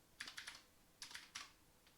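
Keystrokes on a computer keyboard come in short bursts of clicks, a few quick taps, a pause, then another cluster. The typing is close, fairly quiet, and has no speech over it.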